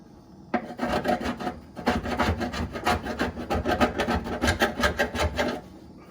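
An old, cheap chisel works wood close up, making rapid rhythmic rasping and scraping strokes. The strokes come in two bursts separated by a short pause.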